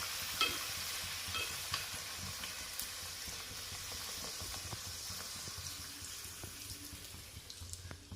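Puri frying in hot oil gives a faint, steady sizzle with soft crackles and small pops throughout, fairly quiet and unaccompanied by talk.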